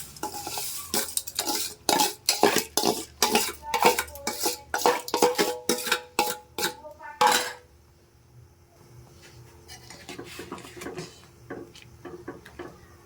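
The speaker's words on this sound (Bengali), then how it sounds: "আমি কিন্তু এবার সিমাইটা দিয়ে ভালো করে কিন্তু একটু নাড়িয়ে নেব" Vermicelli being stirred into boiled milk in a pot, a fast run of sharp metal-spoon knocks and scrapes against the pot for about seven seconds, then a quieter low simmering hiss with faint occasional taps.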